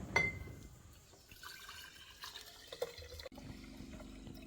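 Water trickles and drips into a glass jar for a ginger bug, soft and close, with a brief clink at the start and a low steady fill tone near the end.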